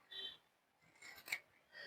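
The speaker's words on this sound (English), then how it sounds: "we are going to trim the feathers with scissors" Scissors snip feathers being trimmed for a handmade fascinator hat, a few quiet, close crisp cuts and rustles in a hushed room.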